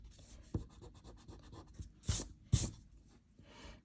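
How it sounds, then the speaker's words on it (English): An eraser rubs over a pencil drawing of a cartoon character on paper, making soft, faint scratchy scrubbing strokes in an irregular rhythm with a few sharper brushing sweeps. "We're going to erase some of this in here."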